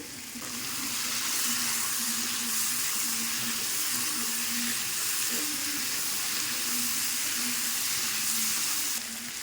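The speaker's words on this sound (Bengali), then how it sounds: "এবার দিয়ে দেবো ভেজে রাখা আলু।" Fried potatoes tumbling into a hot pan of vegetarian jackfruit curry, setting off a loud, steady sizzle and frying hiss that holds evenly throughout, close and alone with no talking.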